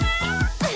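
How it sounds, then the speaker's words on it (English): A cat meows three times in quick succession, each call a short, clear, rising-then-falling cry close to the listener, with steady low background sound throughout. "A kitty."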